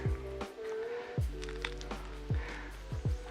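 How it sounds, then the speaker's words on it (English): Cast resin flashing is squeezed off a piece by hand, making several soft, wet squishing and popping sounds at irregular intervals, close and fairly quiet. "Go ahead and squeeze to remove that flashing."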